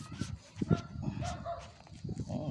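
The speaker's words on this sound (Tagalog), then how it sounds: "Mga aso." Several dogs barking and yipping in short irregular bursts at moderate distance, somewhat faint, with some whimpering between barks.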